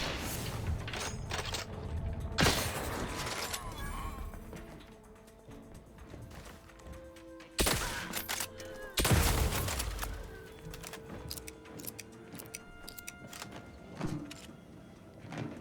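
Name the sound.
gunfire shooting enemies in video game The Outer Worlds 2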